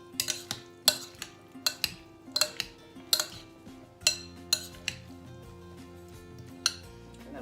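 Salmon poke is mixed in a bowl with a utensil, producing a run of sharp clinks and knocks against the dish in an irregular rhythm, close and clear with no talking.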